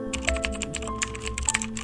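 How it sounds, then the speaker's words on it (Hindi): Keys on a computer keyboard clatter in fast, uneven strokes, moderately close and steady, with a faint low hum beneath and no speech. "इस बार कंप्यूटर पर कीबोर्ड अपने आप टाइप कर रहा था।"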